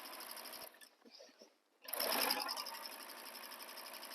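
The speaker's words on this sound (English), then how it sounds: "you're just stitching directly on top of those lines you drew" A sewing machine runs steadily while quilting lines are stitched onto a bag, a brief pause near the start before the motor resumes with a continuous, fairly loud whirring hum.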